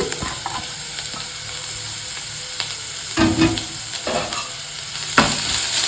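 Grated carrot sizzling in a hot pan, with a spatula stirring and scraping a few times; loud and close, no talking.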